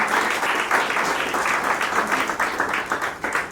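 Loud, sustained applause from an audience welcoming a guest at a retirement function, with dense rapid clapping that stays steady throughout.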